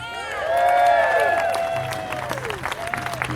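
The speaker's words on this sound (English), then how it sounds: "Give her a round of applause." A crowd at an outdoor rally claps and cheers for a singer, the applause swelling early and then thinning out while a sustained tonal sound rings over it.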